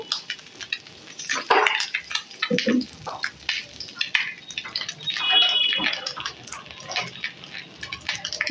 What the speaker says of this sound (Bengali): এখন আমি এই তেলের মধ্যে আরো একটু তেল দিয়ে দেব